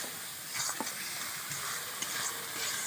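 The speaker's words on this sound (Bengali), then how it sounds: "দেখেছো কতটা সুন্দরভাবে কষিয়ে নিচ্ছি।" Spice masala sautéing with a little water in a pan for a fish curry, a continuous close hiss and sizzle with light stirring scrapes throughout.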